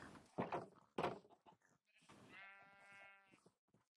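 Sheep bleating in a fantasy video game: a long wavering, harmonic bleat rises after a couple of sharp thuds and speech-like bursts, fairly close and clear, fading out near the end.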